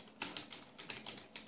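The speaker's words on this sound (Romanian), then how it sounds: "L-auzi, tastatura." Soft, quick keystrokes on a computer keyboard click in an irregular patter during a Counter-Strike 1.7 session, quiet and close, with no talk.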